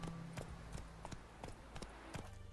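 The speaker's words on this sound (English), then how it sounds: "on your little horse roach." Horse hooves clip-clop at a steady riding pace in The Witcher 3, a series of moderate, evenly spaced hoof strikes over a soft ambient bed with no talking.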